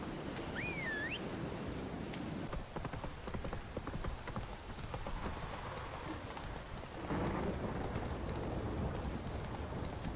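Steady rain pours down with deep rolling thunder rumbling through in The Witcher 3: Wild Hunt, and a brief wavering whistle-like tone rises near the start.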